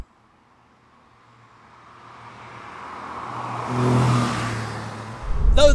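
Porsche 911 996 Carrera 4S Cabriolet flat-six engine growling as the car approaches, swelling steadily from faint to loud and peaking near the end, with a low steady drone underneath.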